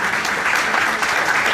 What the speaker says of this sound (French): Nous pouvons l'applaudir.